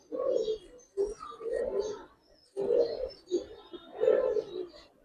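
Domestic pigeons in a Bangladeshi fancier's collection coo in repeated soft, throaty phrases, close by, with brief pauses between bursts.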